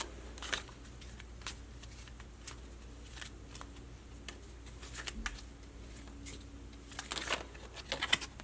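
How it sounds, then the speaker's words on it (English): Quiet papery flicks and soft clicks as cards are shuffled, irregular and close, with a brief flurry near the end. "let's shuffle these cards"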